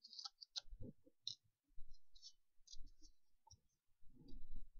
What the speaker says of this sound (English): the machine released itself once the plate had gone through